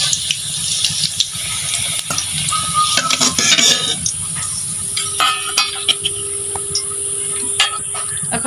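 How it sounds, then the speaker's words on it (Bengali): Cumin, bay leaf and dried chilli tempering in hot oil in a kitchen pan, a steady broadband sizzle with scattered crackles and a few sharp metallic utensil clinks near the middle, close and moderately loud, no voices. "এখন এই তেলের ভিতর আমি এই যে জিরে, তেজপাতা, শুকনো লঙ্কা ফোড়ন দিয়ে দিলাম।"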